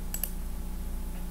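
Two quick, crisp computer mouse clicks close by over a steady low hum, followed by quiet.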